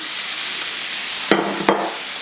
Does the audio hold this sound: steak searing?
yes